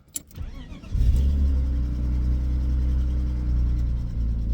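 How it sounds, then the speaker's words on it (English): A car engine cranks and catches after a short quiet moment, then settles into a steady, loud, low idle rumble that holds close to the microphone until the end. "Start the car up."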